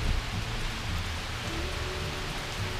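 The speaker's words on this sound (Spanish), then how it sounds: "¿Y ahora cómo vuelvo a casa? Mirad cómo llueve." Steady rain pours down outdoors, a dense, continuous close hiss of drops hitting surfaces that holds at an even level throughout, with no voices.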